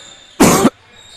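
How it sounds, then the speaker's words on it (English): A single sharp cough into a microphone from a basketball commentator, loud and close, lasting under half a second against a quiet background. "I meant to shut down my mic so I could cough"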